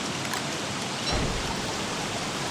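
Steady rain falls outdoors near trees as a soft, even hiss of drops, faint and continuous, with a slightly heavier patter midway and no voices.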